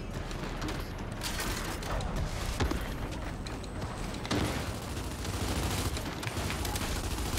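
Sniper rifle fire and other weapons in the Gears 5 shooter game, with sharp, loud cracks scattered over a dense, continuous bed of battle noise and effects.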